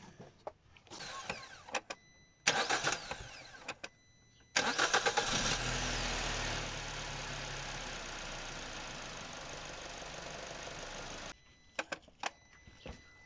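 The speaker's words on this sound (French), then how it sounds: "J'ai fait tourner 2-3 fois le démarreur, histoire de bien actionner la pompe à huile." A car engine being started after an oil change: several short cranking bursts from the starter, then the engine catches with a loud rev and settles into a steady idle before cutting off, with clicks after, and no speech.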